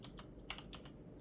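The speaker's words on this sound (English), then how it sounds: "Root password will be disabled, so we have to type in a password." A password being typed on a computer keyboard while setting up a home server, a quick run of light, close key clicks with a couple of sharper taps, alone and fairly quiet.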